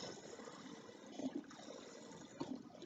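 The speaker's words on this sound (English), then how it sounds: "I'm going to just fill this up halfway with fresh, this is rainwater." Rainwater pours steadily into a container being filled halfway, making a soft continuous splashing and gurgling at low volume.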